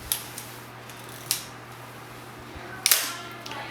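A camera shutter set to 1/1000th of a second fires in a quiet room, giving several faint, crisp clicks spread out over a few seconds. The last one is a louder double snap.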